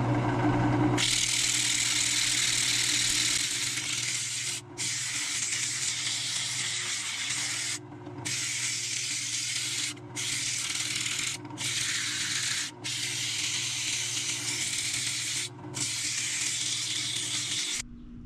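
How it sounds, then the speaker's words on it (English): A turned wood piece is sanded on a spinning lathe, working from 80 up to 400 grit, giving a loud continuous hissing rasp broken by brief pauses at regular intervals. "I'm gonna sand from 80 to 400 grit."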